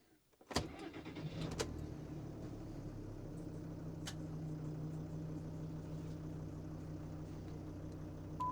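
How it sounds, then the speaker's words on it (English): A Volkswagen Crafter van engine turns over with a couple of clicks, then settles into a steady, quiet idle hum. "So first of all I need to have the engine on."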